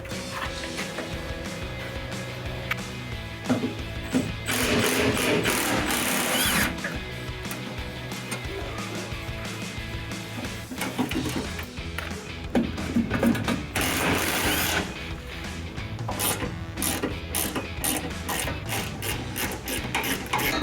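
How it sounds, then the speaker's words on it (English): An impact driver spins off 10 mm exhaust hanger bolts on a 2015-2020 EcoBoost F-150 in loud bursts of whirring, hammering rattle, with pauses between runs and no talking. "I'm going to be using a impact driver on these."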